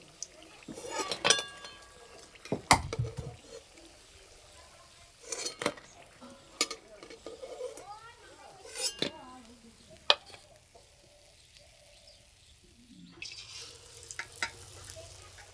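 Eggplant fritters (beguni) lifted out of hot frying oil and left to drain, with clinks of a slotted spoon against a pan and light crackles, sounding as scattered sharp knocks among soft sizzle.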